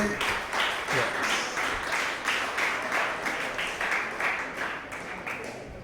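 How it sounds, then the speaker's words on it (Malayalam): An audience at a youth retreat applauds, a dense sustained round of many hands clapping, loud and close, gradually tapering near the end. "ഒരു നല്ല കൈയടി കൊടുത്തേ"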